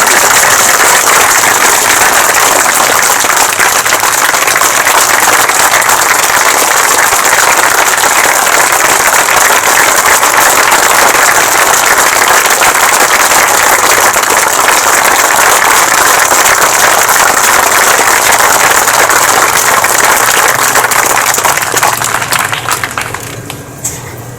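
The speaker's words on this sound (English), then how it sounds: "Let's have a round of applause for these guys." An audience applauds veterans at an 80th anniversary D-Day ceremony at the Eisenhower Library, loud, dense and sustained clapping for over twenty seconds before it fades out at the end.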